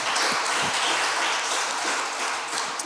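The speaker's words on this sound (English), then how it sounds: "Yeah, please clap." A panel discussion audience claps in a soft, even wash of applause, moderately distant and sustained throughout with no speech on top.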